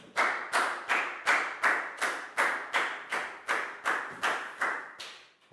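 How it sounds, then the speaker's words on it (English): A class of Year 4 pupils claps in about a dozen sharp, evenly spaced bursts, loud and close, with no voices over it. "Big round of applause for Dan"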